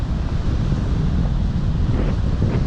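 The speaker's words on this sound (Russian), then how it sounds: "Ветер дует." Strong wind roars against the microphone with heavy sea waves surging over a harbour breakwater near a lighthouse on the Latvian coast at Mangaļsala, a steady loud broadband rush with no pauses.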